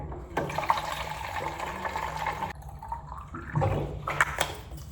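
Water pouring from a household tank into three empty bottles, a steady gurgling splash that pauses briefly midway, then resumes with uneven glugs and drips, close by with no talk.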